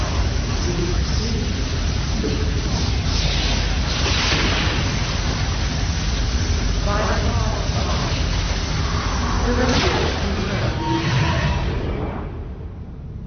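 Protoss mothership weapon in StarCraft 2 firing on Marines, a sustained dense roar of energy blasts and explosive rumble running continuously for about twelve seconds before tapering off at the end.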